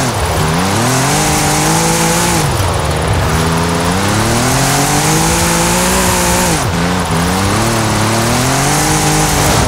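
Audi RS4 in Forza Horizon 5 drifting, its engine revving hard and continuously with rising and falling pitch sweeps, tires squealing throughout, loud and close with no talk.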